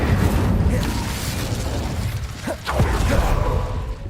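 Incendio fire spell cast in Hogwarts Legacy, a dense, roaring whoosh of flame with a sharp burst partway through, loud and close, sustained throughout with no talking.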